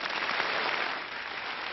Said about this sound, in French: Des applaudissements debout pendant 6 minutes.